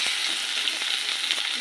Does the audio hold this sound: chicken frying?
yes